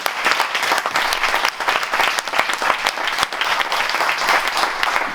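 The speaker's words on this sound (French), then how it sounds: "Je pense qu'on peut les applaudir, les remercier." Audience applause at a round-table event on youth education: dense, steady clapping from a crowd fills the whole stretch at a loud, even level, with no talk over it.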